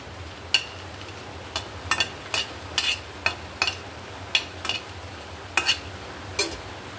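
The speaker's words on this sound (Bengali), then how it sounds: "শুকনো মরিচ ভেজে নিচ্ছি।" Dry red chillies frying in a pan, a string of sharp crackling pops and stirring ticks spread irregularly over a low steady background hiss, close by with no voices.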